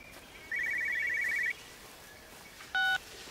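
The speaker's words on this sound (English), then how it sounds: "Phone ringing." Electronic telephone tones in Everybody's Gone To The Rapture: a steady warbling ring lasting about a second, a pause, then a brief higher beep, clear over faint ambient hiss.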